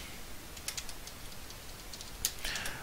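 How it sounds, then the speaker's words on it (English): Fingers tap out an email address on a computer keyboard, producing quick, soft, irregular key clicks in short bursts, close and quiet with no talk. "Admin email, I'm just going to go ahead and type in my email."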